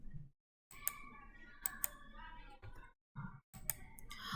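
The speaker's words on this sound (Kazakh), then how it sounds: "окей батырмасын басамын." Crisp mouse clicks pressing an OK button while setting up a project in MIT App Inventor: several sharp, close clicks spread over a few seconds, separated by brief silences and light desk handling noise.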